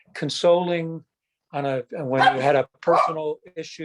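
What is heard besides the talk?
dogs barking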